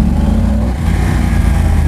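A motorcycle engine drones loudly up close, a low steady rumble with a slight dip partway through.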